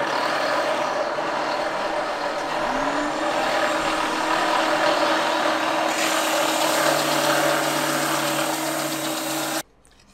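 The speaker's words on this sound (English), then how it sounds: "I'm just going to clean them up on the sander" Cut wood pieces cleaned up on a power sander during a Vauxhall Vivaro campervan conversion; a loud, steady motor whine with a shift in pitch partway through, close by, ending abruptly as the machine stops, no talking.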